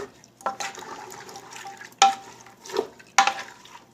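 White chickpeas are stirred with water and spices in a pot, giving a few scraping, sloshing strokes at uneven intervals, close and fairly soft, with no talk.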